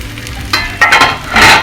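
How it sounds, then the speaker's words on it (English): Onion frying in a pan, with bursts of loud sizzling that swell in three waves as it is stirred, close by with no talking. "onion is cooking."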